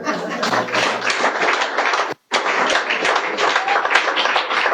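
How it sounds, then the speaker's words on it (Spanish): Congregation applause at a church service, a dense broadband wash of many hands clapping with a brief near-silent break midway, moderately loud and steady. "Dele un aplauso al rey."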